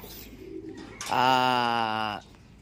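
A single close pigeon coo, a soft throaty call lasting about a second over quiet background noise.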